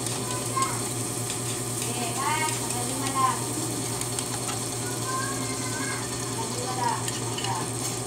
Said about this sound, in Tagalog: Halo-haloin lang po natin ng maayos para maghiwalay-hiwalay naman ang sibuyas.